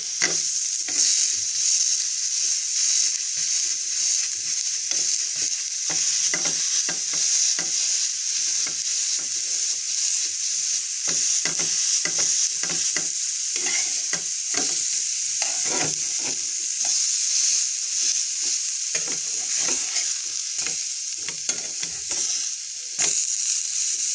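Dough pieces for a homemade pizza dry-frying in a pan without ghee, turned over partway; a steady close sizzle runs throughout with scraping and stirring clatters scattered over it, no voices.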